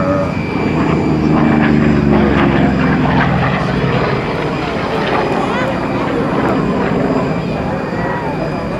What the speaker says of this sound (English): Put your cameras on Dan Dameo as he comes by in the FG-1D Corsair.